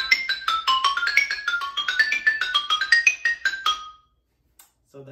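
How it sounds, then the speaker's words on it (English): A rosewood xylophone plays a quick run of bright, high, ringing struck notes for about four seconds, each bar tone sharp and clear, then falls silent. "So compared to the marimba, which is a nice low sound, a xylo sounds something like this."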